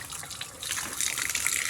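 Water gushes strongly at a farm house, a steady broadband rush that grows louder partway through, heard alone without talk; rain is also falling there.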